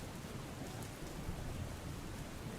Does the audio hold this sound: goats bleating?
no